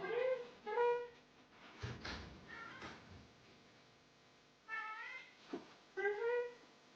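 A cat meows repeatedly on a front porch, several short, close mewing calls in scattered clusters, with a few bumps and low background noise between them.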